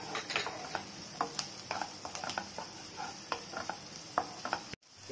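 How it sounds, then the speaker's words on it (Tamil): Sliced capsicum sautéing in chilli chicken gravy, with scattered spoon scrapes and taps over a soft, steady sizzle, fairly quiet and close, cutting off abruptly near the end. "கேப்சிகம் வெட்டி வச்சிருக்கேன் அதையும் போட்டுறலாம் அதையும் போட்டு அது நல்லா வதங்கட்டும்"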